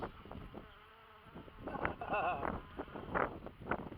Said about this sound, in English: Bees are working